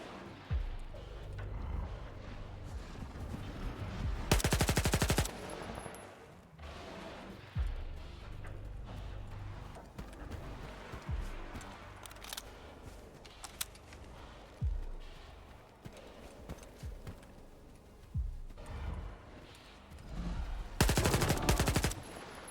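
Automatic weapon fire in the shooter S.T.A.L.K.E.R. 2: Heart of Chornobyl, with two loud, dense bursts standing out against a steady backdrop of quieter gunfire and game noise.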